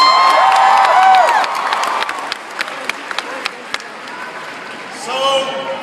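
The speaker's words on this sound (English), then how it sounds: "applause." Crowd applause and cheering at a presidential event, loud at first with shouts and whistles over clapping, then fading to scattered claps before a brief swell of voices returns.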